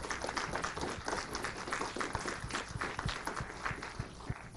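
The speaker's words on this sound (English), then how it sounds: "if we can get one more round of applause for all the detectives that were up here" Audience at a community crime prevention meeting giving a round of applause, a moderate burst of scattered clapping that fills the room for a few seconds.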